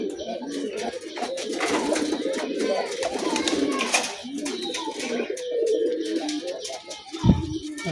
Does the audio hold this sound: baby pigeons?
yes